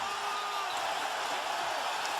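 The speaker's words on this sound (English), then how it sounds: "Crowd fired up by Pau Gasol's play." A basketball arena crowd at a Lakers–Celtics NBA Finals game roars after Pau Gasol's block, a dense, sustained wall of cheering and whoops that stays loud and steady throughout.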